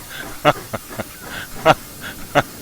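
In the Train Simulator 2016 video game, a steam locomotive on a snowy Clear Creek run from Silver Plume to Golden gives a series of short, sharp bursts of hissing steam at an uneven rhythm, each fairly loud and brief.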